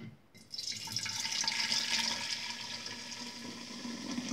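Homemade fabric softener poured into a glass bowl, a steady close-up rush of liquid that starts abruptly and keeps flowing with a slight fizz from an ongoing reaction.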